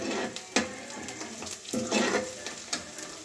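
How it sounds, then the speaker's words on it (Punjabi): Onions tempering in hot oil for a chickpea tadka, a steady close sizzle and crackle broken by a few sharper stirring clatters, with no voices. "ਆ ਦੇਖੋ ਤੜਕਾ ਸਾਡਾ ਲੱਗ ਰਿਹਾ"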